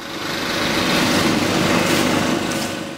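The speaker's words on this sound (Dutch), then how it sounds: "Dan heb je bijvoorbeeld bladblazers en ook bladharkers." A leaf blower engine runs at a steady, loud, high whine with a constant drone and no break, outdoors in a city during the autumn season.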